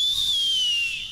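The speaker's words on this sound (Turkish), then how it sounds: "nasıl ıslık çalıyorsun öylese?" A child whistles one sustained, steady high note that slowly slides lower over about a second, loud and close, at a family circumcision celebration.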